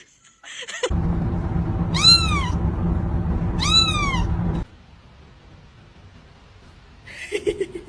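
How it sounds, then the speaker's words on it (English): A cat meows twice in drawn-out rising-falling cries over a low background hum, then a shorter meow comes near the end after a quieter pause. "That's one smart cat."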